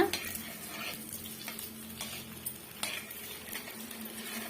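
A ragi snack being stirred gently in hot oil, with soft scraping strokes of a spoon against the pan over a steady low sizzle, close up and without talk.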